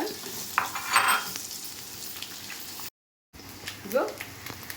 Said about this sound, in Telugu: అంతాను వేగిన తర్వాత మనం ఉల్లిపాయ వేద్దాం. ఉల్లిపాయలు వేగిన తర్వాత